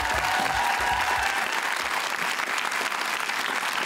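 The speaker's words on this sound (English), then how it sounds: "would you please give a round of applause to Saxa Mullins." A studio audience at a televised panel discussion on consent claps loudly and steadily, a dense sustained wash of applause filling the whole stretch with no talking.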